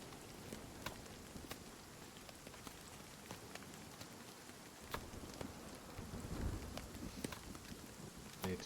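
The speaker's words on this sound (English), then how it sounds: "Need to wait for the hail to stop falling." Hail falling in the survival video game Nightingale, a dense pattering rush with scattered sharp impact ticks and a low rumble swelling near the end, steady and moderately quiet with no talk.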